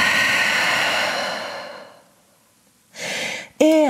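A long, deep exhalation during vinyasa yoga breathing, loud and close, tapers into silence. A short breath and a brief voice follow.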